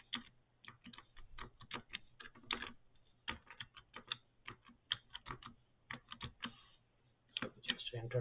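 A password is typed on a computer keyboard: quiet, irregular clusters of close key clicks with short pauses between bursts.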